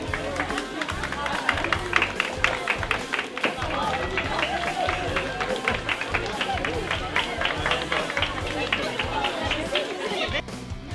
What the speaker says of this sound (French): on a été super bien accueillis par un tonnerre d'applaudissements